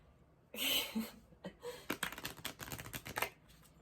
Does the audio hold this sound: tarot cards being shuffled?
yes